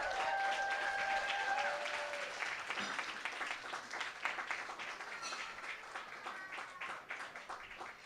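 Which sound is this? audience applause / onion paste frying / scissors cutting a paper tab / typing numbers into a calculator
audience applause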